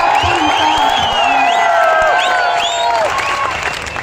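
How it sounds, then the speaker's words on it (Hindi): Crowd at an outdoor election rally claps and cheers for a few seconds, a loud, dense wash of hands and shouts with whoops and voices rising above it. "देखिए, बिना सुने ही ताली बजा दी"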